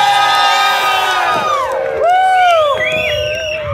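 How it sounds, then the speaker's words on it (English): Crowd at a Bigfoot calling contest during Estes Park Bigfoot Days cheering and whooping loudly for a child, with high shouts and excited voices mixed together. "You give a round of applause for this kid."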